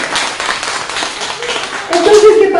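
Audience applause at a talk, a dense patter of clapping that swells louder near the end, mixed with voices.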